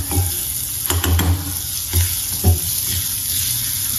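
Raw banana pieces frying in a pan, a steady close sizzle with a few soft stirring knocks at irregular intervals and no talk.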